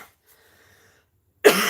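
A single short, harsh cough bursts out loud and close after near silence.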